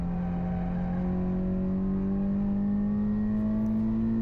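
A car on a wet Queensland Raceway on Advan A052 tyres passes by with a sustained engine drone, its pitch rising steadily as it accelerates over a few seconds, with no voices.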